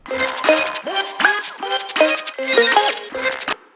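Bright synth stabs from an electronic track ring out in short, bell-like plucked chords, a rhythmic pattern of repeating hits that ends abruptly.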